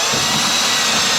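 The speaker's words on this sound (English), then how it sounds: "I'm just going to drill the hole a little bit." A power drill bores a hole for an RV window shade mount, giving a loud, continuous, broadband whir that fills the short moment close up.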